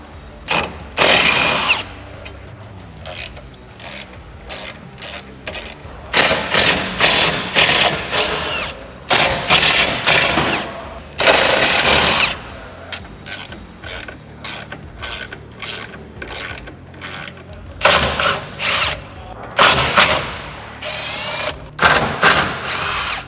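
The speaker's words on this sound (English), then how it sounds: "you're gonna need a 12mm socket and an impact wrench or a hand ratchet" An impact wrench with a 12mm socket removes the rear bumper bolts on a 2016-2019 Toyota Tacoma, firing in several loud close bursts of rattling hammering separated by short quiet gaps.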